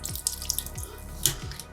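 Water running and gurgling through a CPAP hose during cleaning, with close sloshing, drips and splashy pulses over a steady flow, no voices.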